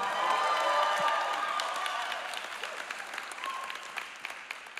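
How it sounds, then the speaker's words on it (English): Church congregation applauding and cheering with scattered whoops, loud at first and gradually thinning into sparser claps. "This is a loud and rowdy crowd here in the house today."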